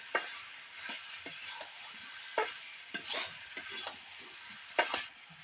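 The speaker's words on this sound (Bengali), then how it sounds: "এবার এর মধ্যে আলু সেদ্ধ করে আলুগুলো দিয়ে দেবো দিয়ে কিছুক্ষণ কষিয়ে নেবো" Boiled potatoes scraped and turned in a pan of oily spice masala give scattered stirring scrapes and clinks over a soft sizzle, with no voices.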